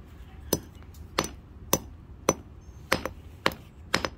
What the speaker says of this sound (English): I'm just smashing all of this into powder.